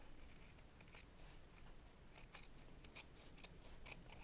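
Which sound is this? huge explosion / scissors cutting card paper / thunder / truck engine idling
scissors cutting card paper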